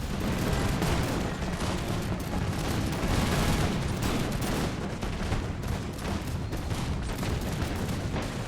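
Dense, continuous musket volleys roar through a battle in an American Revolution video game, the crackling gunfire rolling on steadily and loudly without a break.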